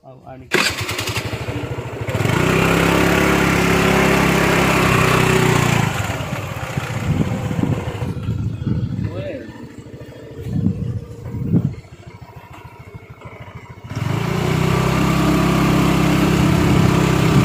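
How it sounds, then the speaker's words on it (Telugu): A TVS Jupiter scooter engine runs with a steady droning idle and revving, drops away midway while voices talk, then returns loud and close. "బండిలో వెళ్ళడానికి స్కూటీలో టీవీఎస్ జూపిటర్ అండి మాది"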